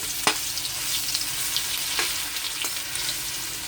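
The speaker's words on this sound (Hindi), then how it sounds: "मैं इसमें लहसुन का पेस्ट डाल दूंगी।" Steady sizzle of garlic paste frying in hot oil with cumin, with a few sharp clicks from a utensil against the pan.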